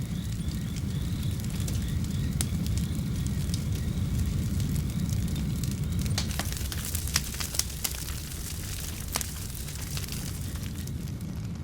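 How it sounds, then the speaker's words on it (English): A bushfire roars through dry winter grassland as a steady, dense low rumble, with sharp crackles and pops scattered across it, loud and continuous. "the fire ravages the grasslands"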